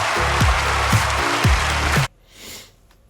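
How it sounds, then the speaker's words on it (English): Studio audience applause for a young contestant on a televised talent show, a broad steady clapping wash with a few low snort-like bursts, cutting off abruptly partway through and leaving near silence. "This applause is all for you for being so amazing."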